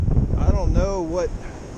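Strong wind on Apple Orchard Mountain along the Appalachian Trail buffets the microphone with a low, rough rumble, while a voice exclaims over it.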